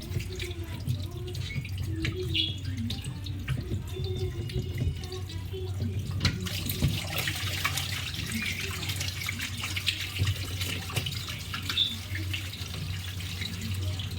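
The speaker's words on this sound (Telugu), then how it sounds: "చూసారు ఇక్కడ వాటర్ వస్తున్నాయి బయటికి." Water running out of the opened drain port of a Thomson washing machine during a drain-problem repair, a steady splashing trickle with faint drips, close and continuous throughout with no voices.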